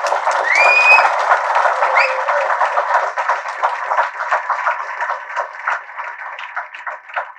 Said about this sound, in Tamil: உங்கள் பெருத்த கரகோஷத்துடன்.